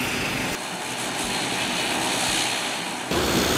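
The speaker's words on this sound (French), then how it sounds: "on va regarder ensemble comment l'avion va décoller" Airplane engine roar as an aircraft takes off, a steady loud broadband drone that swells slightly at the end, with no voices over it.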